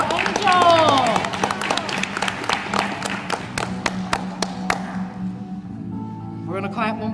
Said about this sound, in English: We're going to clap one more time for Angel